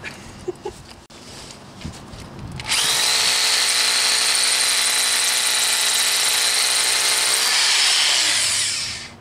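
A tungsten carbide drill bit grinds into hard quartz with a loud, steady, high-pitched whine that starts abruptly after a few seconds of quieter handling noise and holds constant before easing off near the end.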